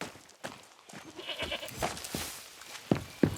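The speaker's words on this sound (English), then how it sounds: "I heard a goat." A goat in the Far Cry 6 game world lets out two short, sharp bleats near the end, amid faint ambient game noise and scattered clicks; no one talks.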